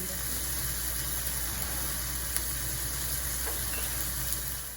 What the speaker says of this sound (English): So we have a 1/4 pound of sausage frying, and I'm going to add a 1/4 of an onion